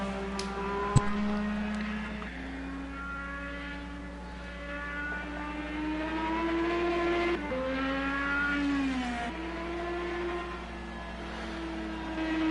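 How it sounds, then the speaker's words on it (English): An Indy race car engine in a racing game, heard as a steady high buzzing drone whose pitch rises and falls as the car passes, loud and continuous with no talking. "I think I seen the top of his car buzzing past the wall there"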